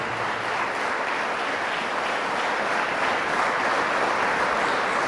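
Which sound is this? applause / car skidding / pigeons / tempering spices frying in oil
applause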